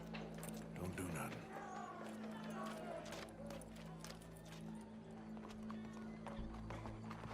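Horse hooves clip-clop in Red Dead Redemption 2, with a whinny and faint voices in the background, all quiet and distant.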